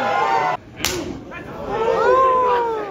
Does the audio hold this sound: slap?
yes